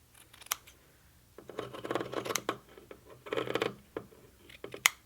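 Scissors cut a stain out of a piece of fabric in quiet, irregular bursts of close snipping and scraping, with short pauses between cuts and a sharper click near the end.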